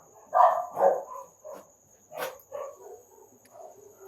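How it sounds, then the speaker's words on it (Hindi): Several dogs gathered together bark in separate bursts, a few loud yelps up front and quieter ones trailing after, with crickets chirping faintly behind them. "बहुत सारे कुत्ते इधर इकट्ठे हो गए हैं।"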